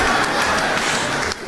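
Audience applause fills a grant winner celebration hall, a dense, steady wash of many hands clapping loudly and continuously before dropping off abruptly near the end.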